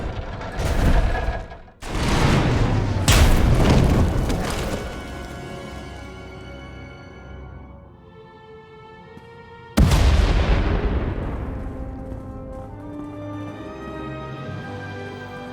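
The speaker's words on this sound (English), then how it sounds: "We heard explosions." Explosions in Star Wars: The Old Republic burst loudly in several heavy booms, with crackling debris rumbling and fading between blasts, then another big blast at the end that decays slowly.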